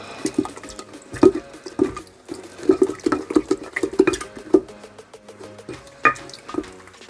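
Spoon stirring elderflower syrup mixture of sugar and water in a pot, with repeated clinks against the side and liquid swishing and dripping, close and fairly loud, no voices.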